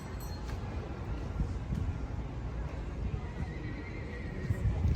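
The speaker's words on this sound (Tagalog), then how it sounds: "Ayan sa baba yung mga kabayo, oh." Horses whinny and neigh amid steady outdoor rumble and wind in Baguio City, with faint hoof clatter in the background.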